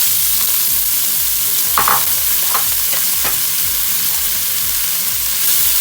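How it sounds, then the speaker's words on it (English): Sprouted green lentils dropped into a hot pan with salt and crushed black pepper, giving a steady loud sizzle and fry with a few brief scraping stirs, close up and with no voices. "Then immediately add sprouted beans into the pan."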